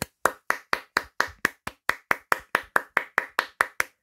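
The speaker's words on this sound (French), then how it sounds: "je félicite Lego, hein, vraiment en les applaudissant" One person claps hands in a slow, even rhythm, about sixteen sharp, close claps spaced roughly a quarter second apart, alone in a quiet room.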